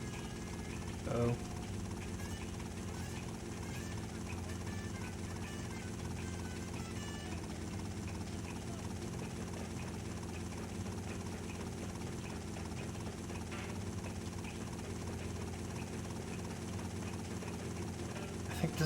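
Helicopter rotor and engine drone from the game GTA Vice City Stories, a steady continuous whir running throughout with game sounds mixed in.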